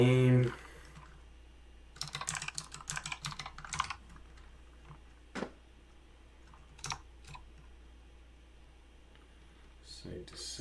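Keystrokes on a computer keyboard as a VPN connection name is entered during AWS site-to-site VPN setup: a quick burst of close clicking, then a few isolated taps, with a brief voice at the start.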